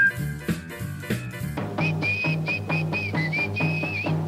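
The whistled theme song of the cartoon Ed, Edd n Eddy, a bright, clear melodic whistle in short phrases over a bouncy plucked bass and rhythmic backing music, up front and alone.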